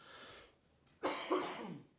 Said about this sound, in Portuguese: Ou se vocês estão gostando de ouvir minha tosse.